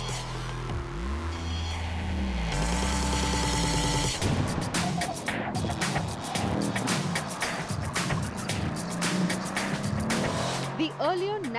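Mercedes-AMG C63 S driving hard on a race track, engine revving and droning with tires squealing through corners, loud and close, while a presenter talks over part of it.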